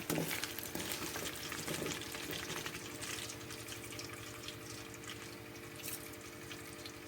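June beetles frying in hot oil in a wok, a steady dense sizzle and bubbling that runs throughout, loud and close with faint stirring and no talk.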